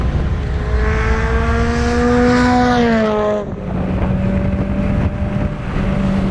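A modified JDM 2001 Subaru STI making 420 wheel horsepower, driven hard on a race track: loud in-car engine drone with rising revs, a sharp lift and gear change, then steady engine tone again.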